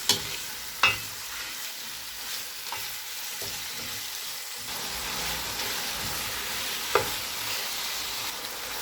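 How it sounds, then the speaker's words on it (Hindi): A constant close hiss and crackle comes from keema frying in ginger garlic paste, with occasional sharp clinks and scrapes from stirring the pan; no voices. "कीमे को अदरक लहसुन के पेस्ट में फ्राई करेंगे।"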